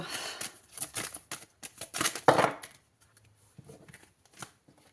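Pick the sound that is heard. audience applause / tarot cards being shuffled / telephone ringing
tarot cards being shuffled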